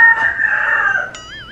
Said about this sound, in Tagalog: Ang ingay ng manok, ha?